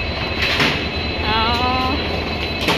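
Busy platform ambience at Bongaigaon railway station with a steady rumble and a brief high metallic squeal of train wheels in the middle, no talking.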